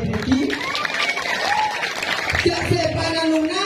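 Crowd applause at a Balinese calonarang performance, steady and sustained clapping under a loud voice talking over it throughout.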